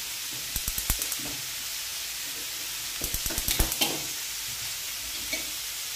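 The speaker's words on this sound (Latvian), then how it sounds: "Uz sausas pannas aktivizēsim sēkliņas." Seeds toast on a dry, heated Indian bread pan, giving bursts of sharp crackling pops in two clusters over a faint background hiss.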